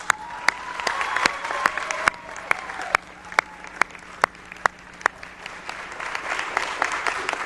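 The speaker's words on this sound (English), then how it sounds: "So let's give them a round of applause." Audience applause at an Atlanta City Council meeting honoring a women's basketball championship team, a dense steady clapping that fills the room throughout, with sharp louder claps standing out and faint voices underneath.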